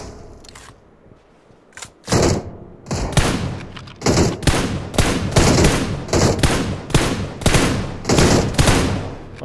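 Rapid bursts of gunfire from a squad battle-royale shooter match, loud sharp shots repeating in quick clusters after a brief quiet opening, with no talk over them.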